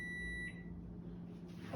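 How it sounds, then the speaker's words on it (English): A high electronic beep from a microwave timer sounds once for about half a second, then fades into a low background hum. "let the timer completely go off. There it goes, there's the timer"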